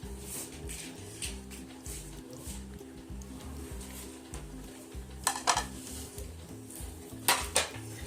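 Fruit chaat is stirred in a bowl with tamarind syrup, a spoon clinking and scraping rhythmically against the dish with a few sharper metallic knocks, close but fairly soft.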